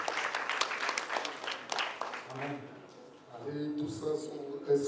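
Audience applause at a press conference in Paris for a concert, clapping dense for about two seconds, then thinning as a voice resumes speaking over the fading claps.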